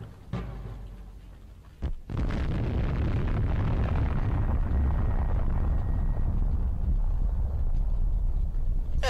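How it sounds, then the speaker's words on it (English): A massive explosive blast in the video game Postal 2 bursts out suddenly after a couple of sharp pops, then rolls into a loud, sustained rumble of debris and fire that fills the rest of the scene. "Get ready for the best explosion in gaming history!"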